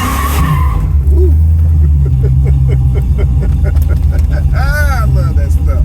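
A 1999 Dodge Dakota R/T pickup accelerating hard, loud engine roar with rising pitch and tire squeal, while people talk excitedly over it.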